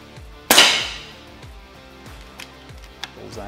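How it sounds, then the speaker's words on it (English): A single sharp crack from an Air Venturi Avenger air rifle fired at 1900 PSI, close and loud, followed by quieter clicks and handling noises. "We're gonna go for just a few more shots here."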